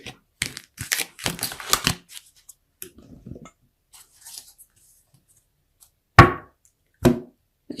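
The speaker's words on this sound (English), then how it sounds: "Let's shuffle my Rider-Waite deck and see what comes out there" Rider-Waite tarot cards being shuffled at close range, with quick riffling bursts followed by sparse taps and slides of the deck, then two sharp card snaps.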